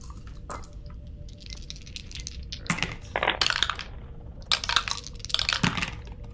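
Dice rolled during a tabletop role-playing game, scattered clicks and clattering taps in several quick bursts, close and sharp against a low room hum, with no talking.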